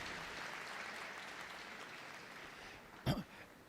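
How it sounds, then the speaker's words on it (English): Audience at the Crufts 2020 dog show Toy Group judging, a long steady wash of applause from a large crowd across the hall, fading slightly, with a brief loud knock or cough near the end. "A big round of applause"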